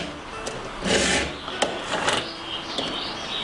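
A hand file rasping across the teeth of a chainsaw chain, a few short scraping strokes, close and moderately loud, with brief pauses between passes.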